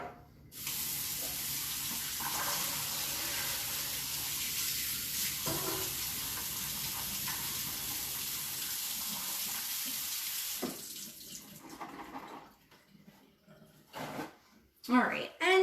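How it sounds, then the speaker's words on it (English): Almonds are rinsed under a running kitchen tap, giving a steady hiss of spraying water for about ten seconds before it stops and a few clatters follow, with a voice talking over it. "we want to take our almonds and we want to just rinse them off"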